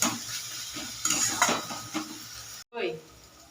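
Tomatoes, a little chilli powder and salt go into a pot of lentils and spinach and are stirred with a metal spoon, giving clinking, scraping strokes over a soft sizzle, with a brief pause near the end.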